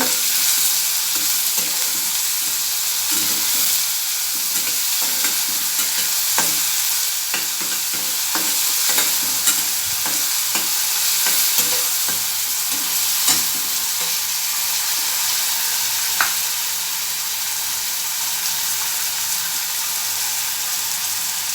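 Finely chopped onions, two large ones, frying in oil in a pan for a bitter gourd dish, a continuous close sizzle with frequent scraping and tapping of the spoon being stirred through.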